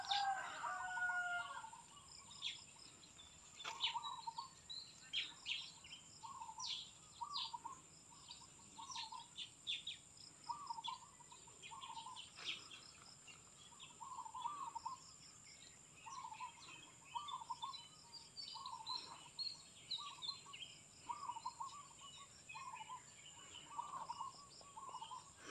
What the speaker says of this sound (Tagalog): Naririnig niyo po ba yung ating background na huni ng ibon na bato-bato?